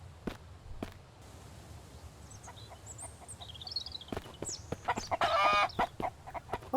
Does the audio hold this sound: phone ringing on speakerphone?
no